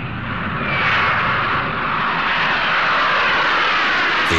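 Antonov An-124 heavy strategic airlifter engines roar loudly and steadily, a dense broadband drone with a rising whine, alone with no voices.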